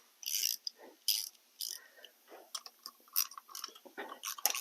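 A ratchet snugging down a bolt on a Miata MX5 engine during a rebuild, rapid bursts of crisp clicking in irregular short strokes, close and fairly quiet.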